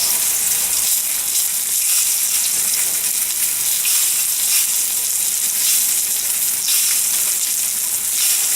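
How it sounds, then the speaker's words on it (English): Chicken stock poured into a sizzling mushroom sauce for filet mignon and mashed potatoes, giving a loud, steady, hissing sizzle and bubbling throughout, close up and uninterrupted. "Gonna add a little chicken stock to the sauce."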